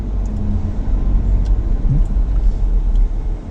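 A car engine on a cold day gives a steady low rumble while driving, a continuous road drone with faint clicks above it and no talk.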